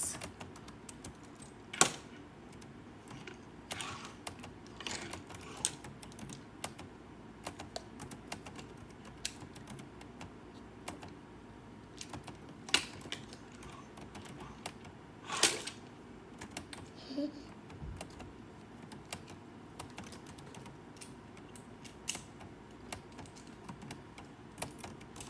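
Typing on a computer keyboard while entering table data, a steady run of quick, light key clicks with occasional louder strikes, close by and without talk.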